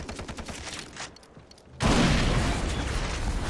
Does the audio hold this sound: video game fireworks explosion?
yes